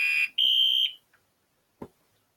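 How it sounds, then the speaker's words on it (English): A Simplex fire alarm system sounds after a homemade pull station is pulled, giving two loud, piercing horn bursts close by before cutting off, followed by a brief faint knock. "I'll pull my homemade pull station and we'll do a re-alarm with the simplex"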